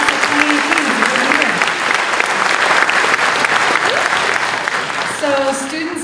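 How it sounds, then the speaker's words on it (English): Audience applause for the incoming freshman class of 2018 at an academic planning night, steady dense clapping filling the room for about six seconds, with a few voices and cheers mixed in near the end. "give them a round of applause"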